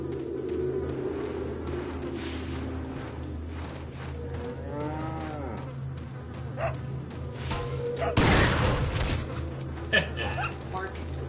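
A single loud shotgun blast in Resident Evil 4 cracks out abruptly near the end, standing out over a busy game soundscape while a person talks.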